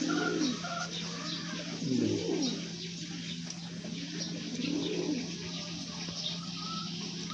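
Pigeons cooing in the Philippines, soft repeated rolling coos rising and falling every couple of seconds over a steady low hum, fairly quiet and close.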